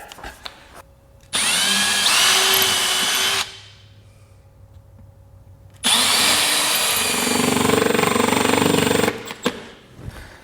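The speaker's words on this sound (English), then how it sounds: "I'm gonna drill a little pilot hole, which makes it center it up" A power drill bores a small pilot hole in two close, loud whirring bursts separated by a short pause, each revving steadily before stopping.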